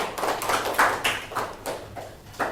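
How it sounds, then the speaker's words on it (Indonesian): A small classroom group claps for a student, with a loose, uneven run of separate hand claps at moderate volume and no voices. "Tepuk tangan dulu buat Halimah."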